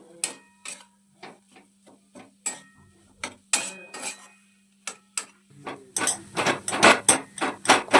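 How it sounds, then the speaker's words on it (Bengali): A spoon mixing spiced boiled potatoes for aloo chop in a metal bowl, giving sharp irregular clinks and scrapes close by, sparse at first and then faster and denser, with no talk. "আলুর সঙ্গে মশলাটা খুব ভালোভাবে মিশিয়ে নেব"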